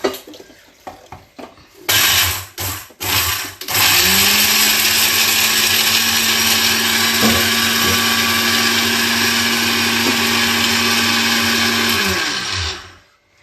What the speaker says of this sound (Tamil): நான் அதை அரைச்சிட்டு வரேன்.